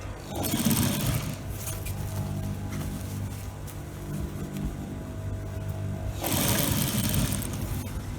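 A sewing machine stitching a peplum flare onto a blouse, with a steady whirring motor hum that runs through the clip and louder bursts at the start and end.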